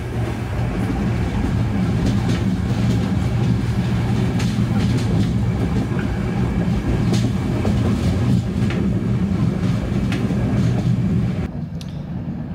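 A train on the Belgrade-Bar single-track railway rumbles loudly and steadily with rhythmic rail clatter and wheel clicks, easing to a quieter level just before the end.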